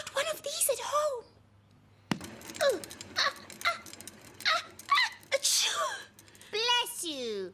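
A sharp sneeze bursts out amid lively vocal sounds and chatter, with breathy gasps and a rising squeal near the end.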